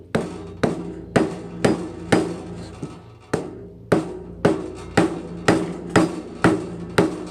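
Hammer prying and striking copper pipe, about a dozen sharp metallic blows at a steady, slightly uneven rhythm, close and ringing, with no talk.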